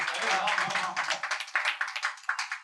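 Live audience clapping at a Hindi poetry recital, a dense burst of applause that thins into scattered individual claps toward the end, fairly close and loud with no voices over it.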